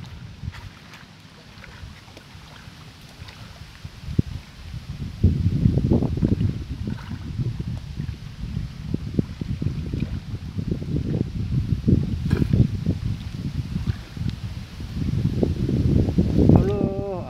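Wind gusting at a lake while fishing, buffeting the microphone in low, rumbling surges that rise and fall over several seconds, heard alongside people talking.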